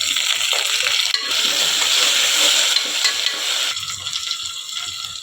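Onions frying in a pan with green chilies, curry leaves and mint, a continuous bright sizzle with stirring scrapes, close and fairly loud, with no talking.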